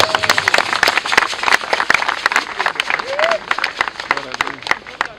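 An audience gives sustained, crowded applause for a guest being introduced, steady clapping filling the room with a few voices mixed in underneath.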